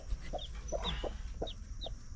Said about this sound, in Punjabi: ਛੋਟੇ ਛੋਟੇ ਜਿਹੇ ਕੂ ਕੂ ਕੂ ਕਰੀ ਜਾਂਦੇ